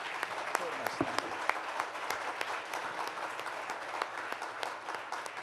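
A conference audience gives a standing ovation, a steady wash of applause from a large hall crowd, moderately distant and sustained with occasional sharper individual claps.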